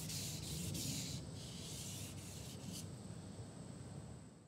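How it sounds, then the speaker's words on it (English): Aluminum rods sanded by hand with 1000 grit sandpaper: a close, continuous abrasive rubbing with quick back-and-forth strokes early on, then settling into a steady softer scrape. "I sanded them with 1000 grit sandpaper to clean them up."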